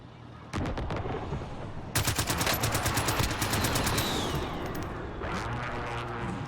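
Rapid bursts of automatic gunfire in Warzone, a dense run of sharp shots cracking close and loud, stopping briefly, then picking up again in a longer stretch before trailing into more distant firing.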